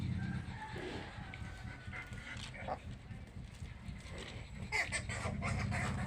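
A dog pants and gives scattered low barks at close range over a steady background rumble, with faint voices now and then.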